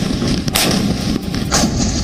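Artillery cannon fire from Indian army guns, tanks and rocket launchers at a military display, heard as dense, loud, continuous booming with sharp blasts overlapping one another throughout.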